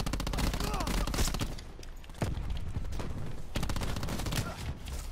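Shotgun fire in Black Ops 4 multiplayer: a dense string of loud, close gunshots with short pauses between bursts, mixed with game noise and a voice talking over it.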